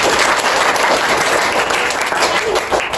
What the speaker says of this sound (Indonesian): beri tepuk tangan buat Teresa